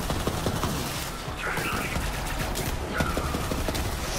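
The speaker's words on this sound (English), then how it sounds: "Bro, this shotgun is like freaking amazing." Shotgun fire in Borderlands 3 bursts out in rapid repeated blasts amid chaotic combat noise, dense and loud throughout, with a few short cries blended in.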